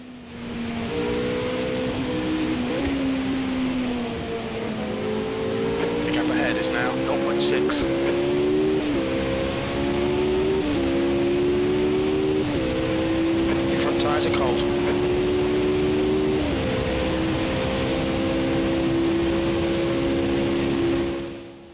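Race cars lap Bathurst in Automobilista 2, a close engine howling loudly and climbing through repeated upshifts, its pitch dropping at each change over a constant roar, with a commentator talking throughout.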